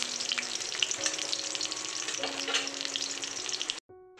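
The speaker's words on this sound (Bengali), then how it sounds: "আমাদের মাছটা ভাজা হয়ে গেছে, এবার মাছটাকে তুলে নিতে হবে।" Fish sizzles and crackles steadily in hot oil for Bengali fish curry, a loud continuous frying hiss with occasional pops, cutting off abruptly near the end with no talk.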